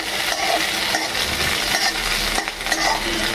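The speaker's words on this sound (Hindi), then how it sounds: "इसके बाद डालेंगे ये मिर्चाई, हरा मिर्च, थोड़ा भून लेंगे।" Green chillies frying in a pan for a dal tadka, a steady loud sizzle with a spatula scraping and stirring throughout, close and continuous with no talking.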